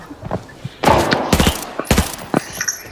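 Gunfire in the shooter game Arena Breakout, on the Northridge map at night with a Mosin rifle in play: several loud, sharp shots and bursts crack in quick succession over about three seconds.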